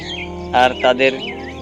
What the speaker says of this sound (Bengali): ওখানে কিছু শালিক পাখি আছে যেগুলো কিচিরমিচির করে ডাকতেছে